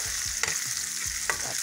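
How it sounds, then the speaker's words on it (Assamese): Onions sizzle in hot oil in a karahi, a loud steady hiss with a couple of quick stirring scrapes over a short stretch. "দি অকণমান ভাজি ল'ম পিঁয়াজখিনি"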